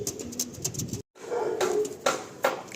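Andhra pigeons coo in a low, throaty murmur, with several soft bursts close by; a brief gap of silence breaks the sound partway through.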